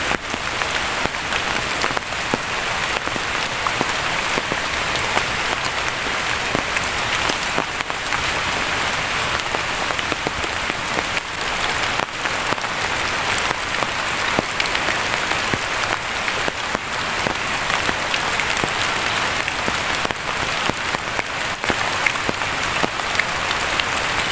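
Rain falling steadily in a forest, a dense, even hiss of drops on leaves and ground that keeps up without a break over a long stretch, close and loud, with no voices.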